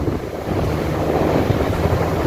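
Sea waves and wind heard from a seaside apartment balcony in Palm Beach village, Alexandria, a loud steady rushing roar with gusty buffeting on the microphone, no voices.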